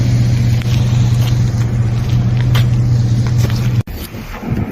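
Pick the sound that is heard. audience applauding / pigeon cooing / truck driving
truck driving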